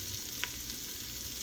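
Red peppers sizzle as they roast, a soft steady crackling hiss with one small pop, heard close and alone.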